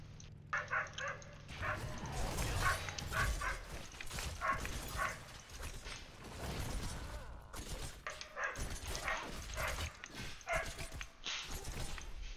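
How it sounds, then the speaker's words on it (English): An angry dog barks and yips fiercely and continuously, its sound mixed with game effects and chatter from a Heroes of the Storm match. "That dog is pissed off, dude. Dog is going at it."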